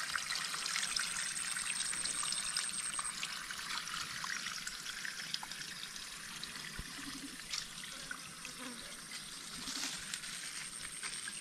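Spring water trickling and dribbling steadily from a natural source, a faint continuous gurgle with small splashes and no voices.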